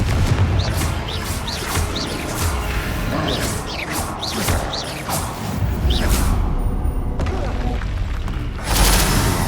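Repeated Confringo spell blasts in Hogwarts Legacy whoosh and boom in quick succession, with crackling fiery bursts over busy combat noise.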